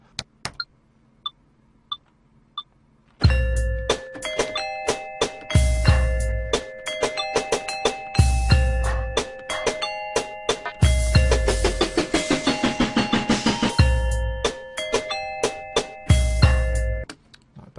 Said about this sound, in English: maybe fill it in a little bit more with another layer of these bells, but higher